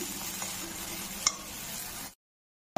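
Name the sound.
soaked spices sautéing with salt in pan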